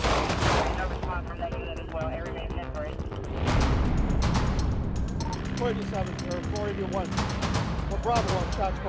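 Police gunshots ring out during a dashcam-recorded confrontation, sharp broadband cracks in a few clusters over continuous talk and radio chatter, loud and close with dense background noise.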